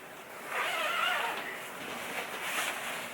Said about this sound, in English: The legs zip all the way up.